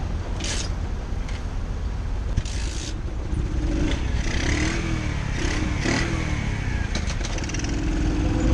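A small 49cc cafe racer motorcycle, a 2018 Amstar Nostalgia, idles with a steady low engine drone that sags and bogs down in places, running loud and continuous throughout with no talk.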